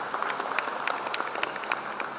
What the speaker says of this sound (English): calls for a round of applause from the audience.